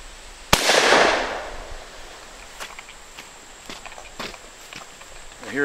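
A .410 shell fired from a shotgun through a Stack Pack adapter: one sharp, loud report followed by a decaying ring and faint scattered clicks afterward.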